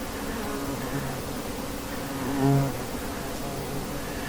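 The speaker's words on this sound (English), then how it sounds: "Oh, and there's a giant bald-faced hornet." A giant bald-faced hornet buzzes near a beehive, a low droning hum that swells briefly louder as it passes close, over a steady background of bee activity.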